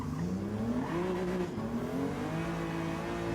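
A BMW M2 engine in a racing video game revs in a continuous, moderately loud drone, its pitch climbing, dipping slightly and rising again as the car accelerates.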